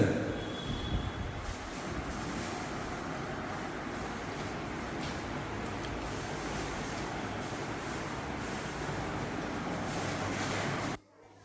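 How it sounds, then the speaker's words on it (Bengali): Train pulling out of Pakala Junction, heard from on board as a continuous broadband rumble of wheels on rail with a faint squeal early on, steady throughout before cutting off at the end. "এখানে ট্রেন আমাদের ছেড়ে দিল পাকালা জংশন থেকে"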